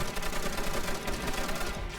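Rapid, continuous bursts of automatic gunfire in Call of Duty: World at War rattle without pause, dense and steady, with no speech.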